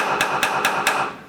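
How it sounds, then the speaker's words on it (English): A hammer taps a square driver bit into a stripped screw on a school bus conversion, four sharp, evenly spaced metallic taps close up with no talk. "use the old hammer the bit technique"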